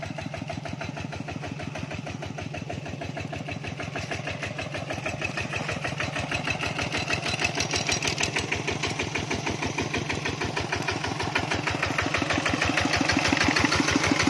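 A tractor engine running a sprayer in a mango orchard chugs steadily with a rapid, even thumping rhythm, close by and gradually growing slightly louder.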